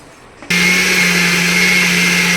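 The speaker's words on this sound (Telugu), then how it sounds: "వేయించుకున్న మసాలా పొడి అంతా మనం ఇప్పుడు గ్రైండ్ చేసుకుంటున్నాము" A mixer grinder grinding roasted masala spice powder starts abruptly and runs as a loud, steady motor whine with a constant hum, close and alone.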